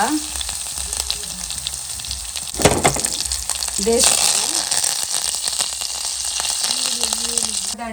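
Garlic is dropped into hot oil for tempering, giving a loud close sizzle and spitting crackle with a burst of popping midway, while a voice talks intermittently over the frying.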